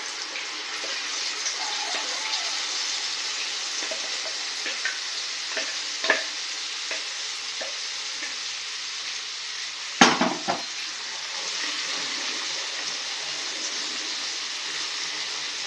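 Ground tomato chutney goes into a hot oil tempering and fries with a soft, steady sizzle, broken by a sharp clatter of a pan or spoon midway; no talking.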